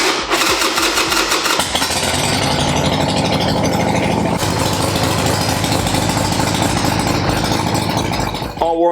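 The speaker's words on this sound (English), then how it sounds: "we need to get the motor warmed up so we can get that oil to drop nicely" A Harley-Davidson Sportster S 1200 motorcycle engine starts and idles to warm up, a loud, steady, dense rumble that runs throughout before cutting off at the end.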